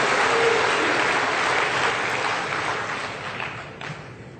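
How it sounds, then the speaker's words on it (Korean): A church congregation at a Korean Sunday service applauds in a dense, steady wash of clapping that holds strong and then gradually softens toward the end. "박수 한번 해줘요."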